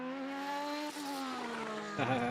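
High-pitched Formula 1 V8 race car engines scream and shift pitch, with a whining note and a brief change as a car passes, fairly faint and distant.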